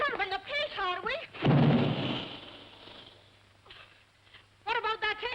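A deep, rumbling boom from an air gun in a 1941 film bursts between lines of dialogue and fades slowly, with voices talking before and after it.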